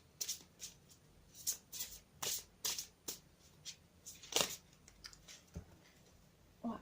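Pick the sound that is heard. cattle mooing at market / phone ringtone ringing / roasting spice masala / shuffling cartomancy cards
shuffling cartomancy cards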